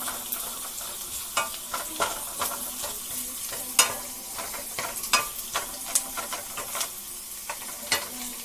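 Ginger and shallots sauteing in a pan, a steady soft sizzle with irregular scraping and stirring clicks from a utensil, close and fairly quiet, with no voices.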